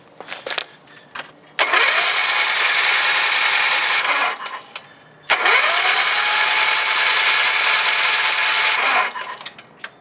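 A Dixon zero-turn mower engine from a scrap yard is spun over dry without firing: two long, loud, steady cranking bursts, each a few seconds, separated by a short pause.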